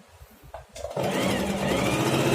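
A Singer 4423 portable sewing machine starts up after a few soft clicks and then runs steadily at high speed, stitching loudly and close by.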